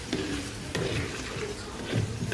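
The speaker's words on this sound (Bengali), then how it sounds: "তিলটা নেড়ে ছুটে দিচ্ছি আর করলাটাও ভাজা ভাজা করার জন্য একটু পরপর নেড়ে দিচ্ছি" Sesame seeds and bitter gourd being stirred and fried in a pan, a steady sizzle with soft scraping stir strokes at a few points, moderately close and continuous.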